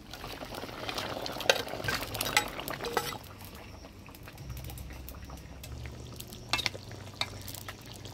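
Fried rita fish goes into a simmering curry with potato and taro, giving soft splashes and stirring clatter over a faint bubbling simmer, with a few sharp utensil clicks near the start and again toward the end.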